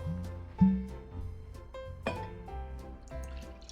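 Elijah Craig Barrel Proof bourbon, batch C920, is poured into a glass, heard as a close, quiet trickle with small splashes and clinks, with no voices.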